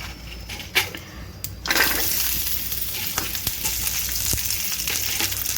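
Chopped ginger and garlic hit hot oil in a pan and sizzle loudly, a sharp burst after a few clinks settling into a steady close frying hiss as they are sautéed.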